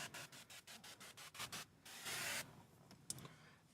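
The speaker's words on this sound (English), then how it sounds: "So let's give this a quick spray." A spray bottle gives a short, steady hiss of liquid misting onto a car windshield before window tint goes on. It follows a run of quick rhythmic rubbing or scraping strokes, close and fairly quiet.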